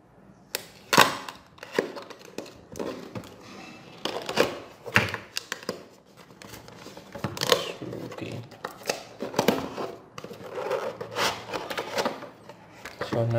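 A PS4 DualShock 4 controller box is opened by hand: sharp cardboard snaps, clicks and rustling of packaging in irregular bursts, close and fairly quiet.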